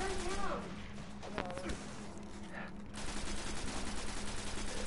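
Video game gunfire from a boss fight, with steady shooting and scattered shots under excited voices and game sounds that run throughout, at moderate volume.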